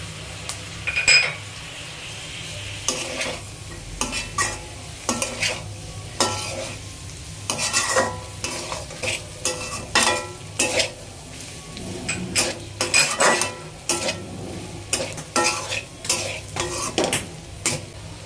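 Boiled carrots and peas stir-fried in a hot pan for seafood fried rice, with a continuous sizzle and repeated scraping and clinking of a metal spatula against the pan, close and loud without talking.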